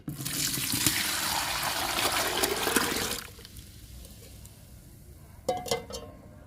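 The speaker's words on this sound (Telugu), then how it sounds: "బకెట్లో పోస్తున్నాను ఉల్లిపాయ ఎల్లిపాయ లిక్విడ్" Onion and garlic liquid is poured into a bucket, a loud gushing splash for about three seconds before it stops, followed by a quieter trickle and a few brief clatters.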